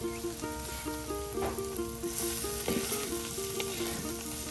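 Chopped bottle gourd sizzles steadily in a pan over a rural Bangladeshi cooking fire, with a dense, continuous frying crackle and faint tonal hum throughout, close and fairly loud, no voices.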